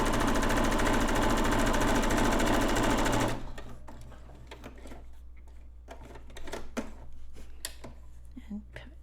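A sewing machine stitches a canvas banner in a loud, fast, steady whirr that stops abruptly after a few seconds. Quiet handling noises follow.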